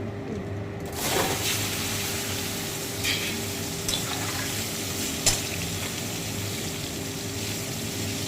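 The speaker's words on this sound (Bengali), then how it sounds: "কাঁচকলাগুলো ভেজে তুলে দেবো।" Raw green bananas fry in hot oil in a pan, giving a steady, even sizzle with a few faint clinks of a utensil. It stays moderately loud throughout, with no voices.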